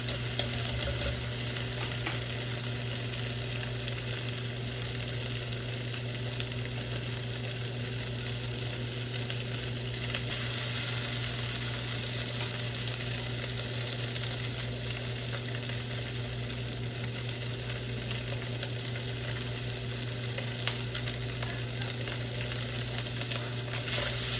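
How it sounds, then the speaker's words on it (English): Seafood sears with garlic in a hot pan, giving a constant, even sizzle that holds steady throughout over a faint background hum. "You just want to heat this up and kind of sear the edges a bit."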